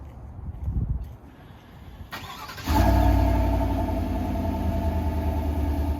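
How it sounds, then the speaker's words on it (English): A 2021 Chevrolet Silverado Trail Boss pickup engine starts by remote and settles into a steady, fairly loud idle close by, following a few quiet seconds of faint handling noise. "To remote start the truck, lock it once and hold down the remote start button."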